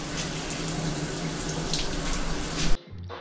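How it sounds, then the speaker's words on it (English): Black, dirty water is squeezed out of a soaked sock on a bikepacking trip, a close, continuous splashing stream that stops abruptly. "You know it's bad when you're squeezing the sock and you just see all that black water come out."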